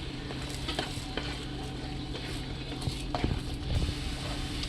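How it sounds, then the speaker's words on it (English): Breakfast eggs sizzle in a pan while a utensil stirs them, giving a steady frying hiss with irregular close scraping and tapping knocks against the pan, and no talk. "giving these eggs another stir after they've been sitting to cook for a little while"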